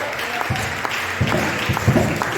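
A church congregation claps in praise of God at a French-language service, a steady, fairly loud patter of hands across the room with a few sharper claps standing out.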